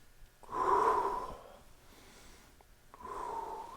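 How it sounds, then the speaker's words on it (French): Several people breathe in deeply together, a loud breathy inhale swelling for about a second, then a quieter pause and a second group breath beginning near the end. No talking. "On fait les grandes respirations."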